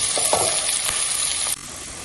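Onions sautéing in a pan for mutton fry, a loud close sizzle with a few stirring scrapes that drops abruptly to a quieter hiss near the end.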